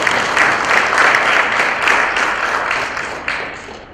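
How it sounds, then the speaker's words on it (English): An audience at a conference session applauds a speaker named Annika, a loud, dense round of clapping that holds steady and then gradually tapers off toward the end. "Could we give her a round of applause, please?"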